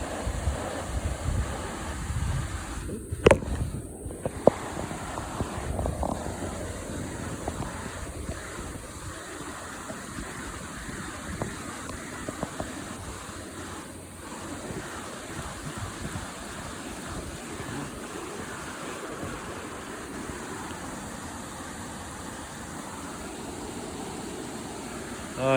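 Steady broadband rushing of a river and waterfall with foam at a fishing area, loud and continuous throughout with a few brief knocks near the start, no talk.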